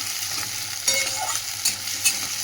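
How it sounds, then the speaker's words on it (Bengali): Onions sizzle in hot oil in a pan while a utensil stirs them, scraping the pan in three or four brief louder strokes over a steady frying hiss. "এই পেঁয়াজটা একটু নেড়ে নিই"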